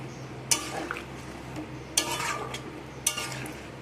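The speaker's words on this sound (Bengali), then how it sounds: "দিয়ে আবারও সব কিছুকে একসাথে মিশিয়ে নিচ্ছি।" Jackfruit curry being stirred in a pan after water is added, with three distinct scraping strokes of a spoon against the metal, each followed by soft wet shuffling and a low steady background hum.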